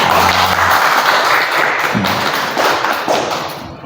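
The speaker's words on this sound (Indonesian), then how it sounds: "Tepuk tangan yang menyiapkan ini WBI." An audience at a Surabaya vihara claps together, a dense, steady patter that starts loud and stays full throughout, with a few heavier thumps mixed in.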